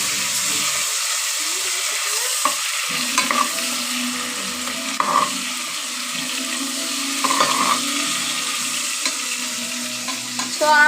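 Onions fry in a pan while being stirred for a mushroom biryani. A steady, close sizzle and hiss runs throughout, punctuated by repeated scraping and clinking stir strokes at irregular intervals.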